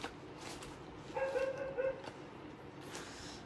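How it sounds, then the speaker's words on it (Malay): A dog barking and yelping somewhere off in the background, faint and distant, a short burst of a few tonal barks and whines in the middle of a quiet stretch. "Anjing duk bunyi pula."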